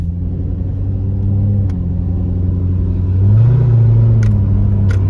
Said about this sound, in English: It's not my fault I have a loud exhaust.